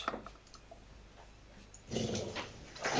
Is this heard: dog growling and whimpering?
yes